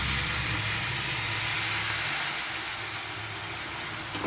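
A steady, loud hiss of sizzling and steam rises as a little water hits a hot pan of spring onion curry with chopped coriander leaves, holding for several seconds and then easing slightly.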